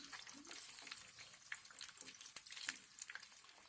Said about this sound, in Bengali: এখন আমরা এটাকে 2 মিনিট ভেজে নেব মিডিয়াম লো আঁচে